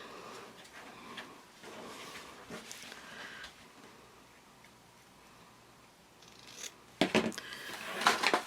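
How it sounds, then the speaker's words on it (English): Scissors trimming the corners of a sewn fabric Christmas gift bag, with soft snips and rustling fabric, a few quiet cuts early on and a louder burst of snipping and handling near the end. "Now what I want to do is trim these corners on each side."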